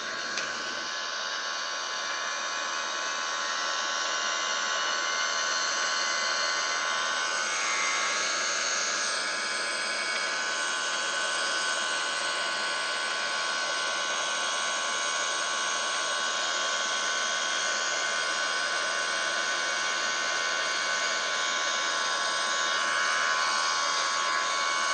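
Steady broadband roar of Airbus A330 jet engines at increased thrust during descent and approach in Microsoft Flight Simulator, a continuous loud whooshing hum that holds level throughout with no talking.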